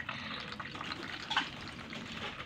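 Liquid from grated cassava being squeezed by hand splashes and trickles in a steady wet gush, close to the listener.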